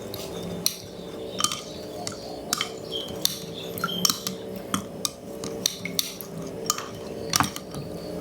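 A metal spoon clinks and taps against a bowl while tamarind is stirred into boiled water, producing repeated light, irregular chinks over a faint background hum.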